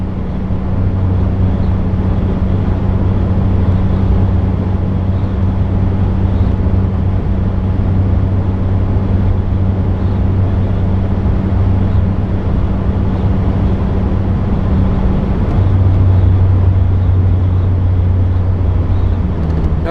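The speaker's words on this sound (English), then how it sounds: "the wind noise is louder than the exhaust is on the highway at full-on interstate speeds." A highly modified Mazda ND Miata cruising at interstate speed around 76–77 mph, with steady wind roar dominating over a low, constant exhaust drone, continuous and unchanging for the whole stretch.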